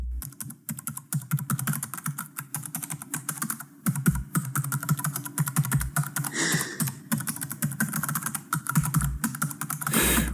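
Fast, continuous clatter of keys on a computer keyboard, close up, with irregular bursts of clicks and brief pauses.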